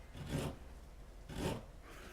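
A folded paper template being creased by hand, two soft rasping rubbing strokes with a quiet pause between, close and faint.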